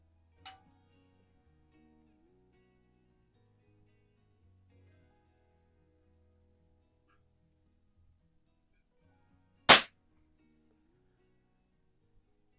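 A Baikal IZH-46M SSP target air pistol fires once at a target: a single sharp crack in near silence, with only a faint tiny click earlier.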